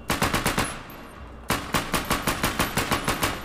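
Modded video game gunfire sounds in two loud bursts of rapid, evenly spaced shots with a short quiet gap between them. No one talks.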